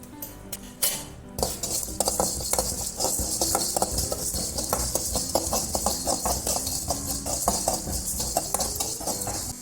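Dry seeds rattle and scrape in a pan as they are stirred, with busy metallic clinks and scratches continuing steadily throughout.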